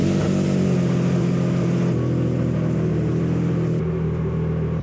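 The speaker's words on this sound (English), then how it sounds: "we are back on the Triumph Daytona 660. We're going for a little rip." A Triumph Daytona 660 motorcycle rides along with a steady, loud engine drone and rumbling road and wind noise, holding a constant note throughout with no voices.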